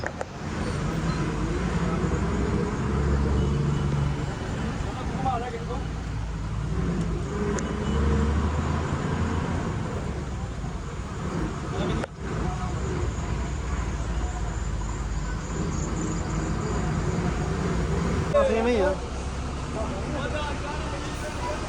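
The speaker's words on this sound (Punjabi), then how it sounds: "ਆਪਾਂ ਬੱਸ ਸਟੈਂਡ 'ਚ ਪਹੁੰਚ ਗਏ ਇਸ ਵਕਤ" Continuous road traffic and a low engine rumble at Faridkot bus stand in Punjab, steady and fairly loud throughout, with people talking over it.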